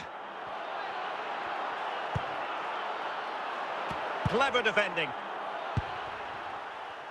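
A stadium crowd roars in a football video game, a steady broad wash of cheering and noise running under a commentator's voice, with a few sharp thuds and a brief whistle-like burst partway through.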